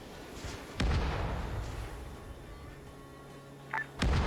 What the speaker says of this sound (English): Next barrage is coming in.